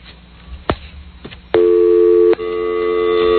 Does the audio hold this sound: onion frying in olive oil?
no